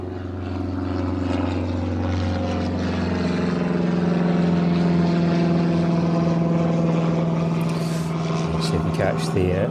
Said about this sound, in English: See if we catch the 152 flying overhead this afternoon then.